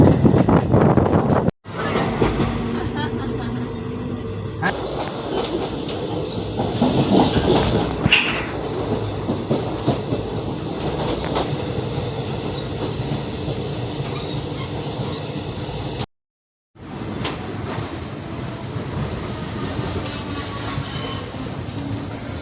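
Inside a moving DEMU passenger train out of Hubballi, a steady loud rumble of wheels and carriage rattle runs throughout with rhythmic clatter, briefly cut by two short silent gaps.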